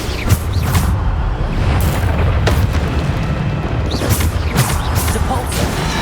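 Bombarda spell blasts in Hogwarts Legacy combat, heavy booming explosions and crashes in a dense, continuous battle din with repeated impact bursts, loud and close, with voices under the action.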